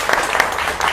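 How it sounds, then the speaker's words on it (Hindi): A brief burst of audience applause at a televised comedy show, loud and dense with no pauses across its short span. "जोरदार तालियां।"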